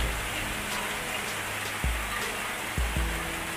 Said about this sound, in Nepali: आज ठुलो असिना परिरहेको छ, देख्न सक्छु नि बाहिर चारैतिर त्यस्तै छ त